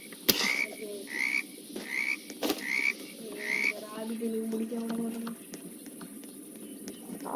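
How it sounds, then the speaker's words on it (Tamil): Frog croaking near a pond in the forest survival game 99 Nights in the Forest, a series of repeated rhythmic croaks close and clear, with faint game sounds and a few sharp clicks around them. "ஓ தவளடா, தவளை கிட்ட போயிடாத."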